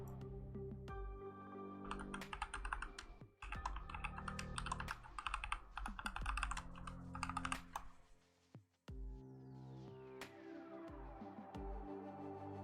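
Fingers typing a password on a computer keyboard, bursts of quick close key clicks with short pauses between them, quiet room, no talking.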